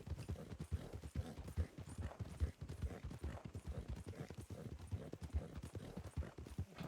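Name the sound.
horse hooves clip-clopping in a video game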